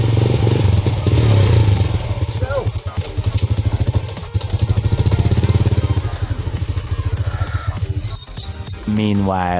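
A motorcycle used for delivery runs with a steady low engine drone, rattling and pulsing in rhythm through most of the clip, with brief revs and a sharper mechanical noise near the end; no speech is heard.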